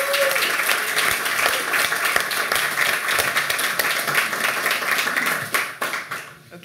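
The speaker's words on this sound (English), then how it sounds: "Jim, I think you need a round of applause for all you have" Conference audience applauding a speaker, a dense, sustained burst of many hands clapping fairly close, keeping steady before tapering off in the last second.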